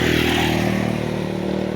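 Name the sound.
motorcycle passing by noisily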